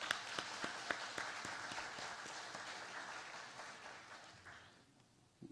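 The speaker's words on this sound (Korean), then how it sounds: "우리 권사님들 박수 한번 보내주시기를 바랍니다." Church congregation applause: a room of people clapping steadily, individual hand claps audible at first, then the sound thins and fades out over about five seconds.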